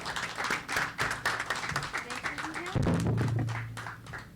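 An audience at an evening poetry gathering claps loudly and continuously, with a low hum and thumping underneath, the applause swelling near the end.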